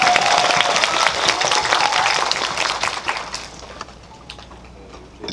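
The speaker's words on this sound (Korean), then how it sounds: "박수 부탁드립니다" Audience applause at a film talk event for the movie 'Money' in a large cinema hall, loud sustained clapping from a crowd that gradually thins and fades toward the end.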